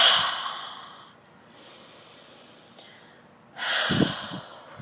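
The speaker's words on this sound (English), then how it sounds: "you can also exhale through the mouth" Breath pushed out through the mouth during a pranayama breathing practice: a strong, airy exhale at the start, softer breathy sounds in between, then another forceful outward breath near the end, close and clear.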